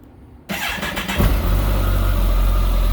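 A stock 2013 Kawasaki ZX14 sport motorcycle cranks over and fires up, a brief starter whir followed by the engine catching and settling into a deep, steady, fairly quiet idle close by.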